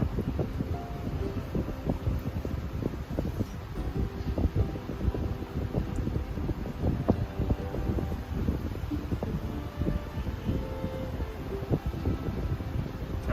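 Steady outdoor wind rushing past the microphone in a garden setting by a fish pond, a continuous broadband breeze with rustling, alone without talk, moderately loud throughout.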